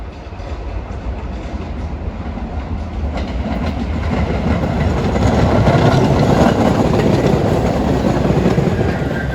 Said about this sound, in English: And 426 we have a local train for Tottenville.